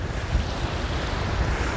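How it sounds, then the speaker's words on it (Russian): Sea waves washing onto a beach at Anapa, a broad continuous roar of surf with wind rumble, steady and close, no voices. "Но это, собственно, красота нашей морской волны."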